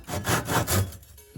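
A hand saw cuts wood along a marked line in several quick back-and-forth rasping strokes, close and clear, before the cutting stops.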